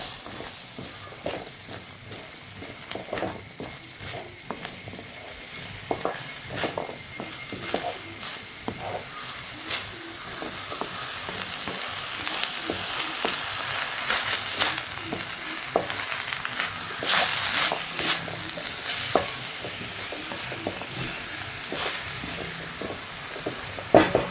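Food sizzling steadily in a hot pan while a spoon stirs and scrapes through it, producing frequent irregular clicks and taps over a continuous frying hiss that grows slightly busier toward the end.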